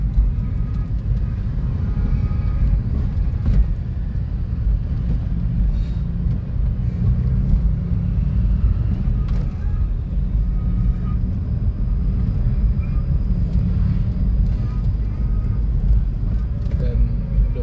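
Trucks and other traffic rumbling along a narrow alternative road near Parung, Bogor, a steady low engine and road drone heard from inside a moving vehicle, continuous throughout.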